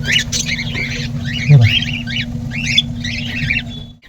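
Cockatiels in a cage squawk in short, repeated bursts over a steady low hum, the calls coming close together in a busy, continuous chatter.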